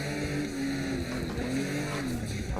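A drift car understeers through a tandem drifting run, its engine droning loud and steady with a wavering pitch and a rough, tire-scrubbing edge the whole way through.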